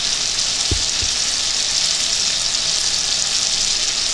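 Onion and garlic sauté for chicken breast menudo, giving a steady, close frying hiss throughout, with a couple of low thumps from something dropped into the pan early on and no voices.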